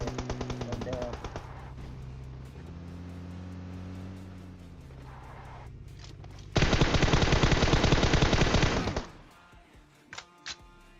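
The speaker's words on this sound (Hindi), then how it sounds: "वो लोग बहुत जोर से गोलियां चलाते हैं" Loud, dense bursts of automatic gunfire rattle for about two and a half seconds in the PUBG battle royale game, after a steady vehicle engine drone. A couple of faint, isolated shots follow.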